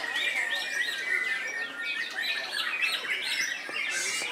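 White-rumped shama (murai batu) songbird calling with a rapid series of bright, varied chirps and whistled phrases, steady and fairly close throughout with no talking.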